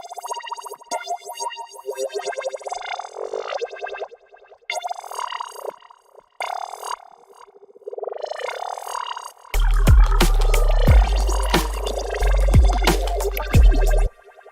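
A Shepard tone effect rack in a music production session sounds as layered, swirling synthetic tones that seem to rise endlessly, with brief gaps, then heavy bass hits and glitchy beats join loudly near the end.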